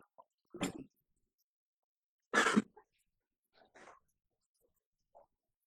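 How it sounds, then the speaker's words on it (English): A dog barking indoors in a few short, sharp bursts separated by pauses, with faint quieter sounds between them and no talk. "I'm gonna have to let my dog in. He's barking like crazy."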